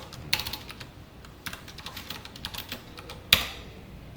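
Fingers type code on a computer keyboard in short bursts of close, crisp key clicks, with a louder, sharper keystroke near the end and no talk.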